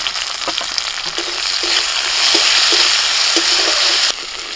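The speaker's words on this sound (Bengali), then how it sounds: "পেঁয়াজটা ভেজে দিচ্ছি" Chopped onion frying in oil for a Bengali fish curry makes a loud, close, continuous sizzle with light stirring taps and scrapes, cutting off abruptly near the end.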